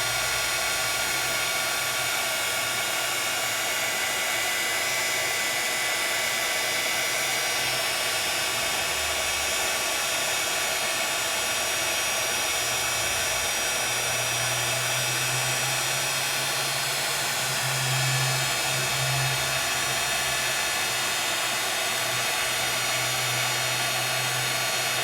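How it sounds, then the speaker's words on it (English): A handheld embossing heat tool blows hot air over a shaker card, a steady, fairly loud whirring hiss that runs without a break for the whole stretch, with a faint tonal hum underneath and no talking. "as it starts to turn, I start to move my embossing, my heat tool"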